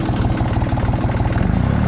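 A Dongfeng tractor engine runs steadily close by, a rapid low thudding chug with even rhythm and no talking, in a field being ploughed with a homemade plough.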